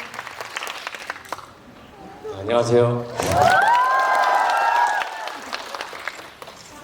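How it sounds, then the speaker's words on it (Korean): Audience applause breaks out in a Korean cinema for an actor introduced at a post-screening talk event, a loud burst of clapping and cheering lasting a few seconds, with a host talking before it and a man greeting the crowd over the tail end. "큰 박수 부탁드립니다"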